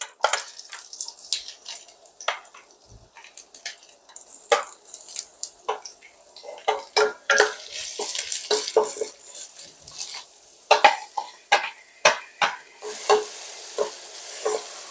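Chopped vegetables and garlic stir-fry in grapeseed oil in a wok, giving a soft hiss under frequent sharp spatula scrapes and clinks that come in irregular bursts.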